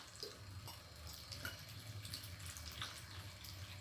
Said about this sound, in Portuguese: Agora aqui a gente vem com água para poder cobrir.